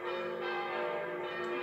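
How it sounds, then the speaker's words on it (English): Church bells peal on a Sunday morning, a steady, sustained ringing with dense overlapping tones that holds at an even level throughout, heard from some distance with no voices. "it's Sunday and you can hear the bells ringing"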